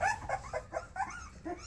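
Newborn male puppies from a litter cry in the background, giving a rhythmic series of soft, high whimpering yelps, about eight in quick succession, faint and close by.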